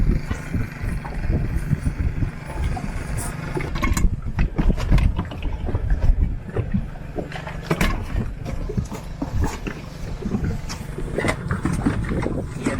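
An outboard engine on a cruising sailboat in a Dominican Republic harbor runs with an uneven, rough rumble and sputtering knocks, close and fairly loud with no talk.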